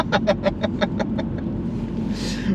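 A MINI car drives along a road in Scotland, with a steady low engine and road drone throughout and a faint voice early on.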